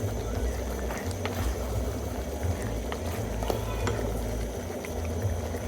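Beef stew with tomatoes boiling in a pot at home, giving a constant close bubbling and simmering hiss with small pops that continues without a break.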